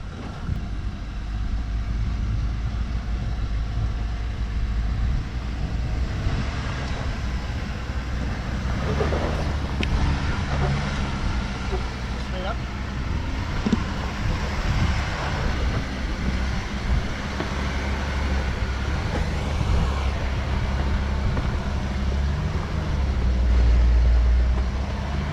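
An off-road vehicle engine rumbles low and steady for a long stretch while reversing down a hill in Arizona, with a broad grinding drone, wind-like noise and occasional knocks, no voices.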